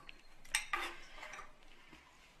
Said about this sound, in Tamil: இதில் வந்து பாக்கி இருக்கிற கொஞ்சோண்டு பால் அதிலே சேர்த்து கலந்துக்கலாம்.